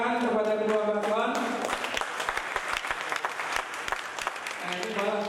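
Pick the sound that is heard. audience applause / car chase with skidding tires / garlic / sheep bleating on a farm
audience applause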